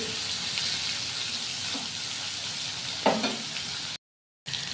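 Raw banana pieces fry in a pan with a steady, close hiss and sizzle, broken by a few soft scrapes as they are stirred, then a brief cut to silence before the sizzling resumes.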